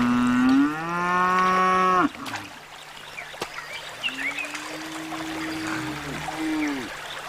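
Cattle on grazing hilltops in the Tswapong Hills, Botswana: one loud, long moo close by, then quieter, more distant lowing over a soft background of trickling water.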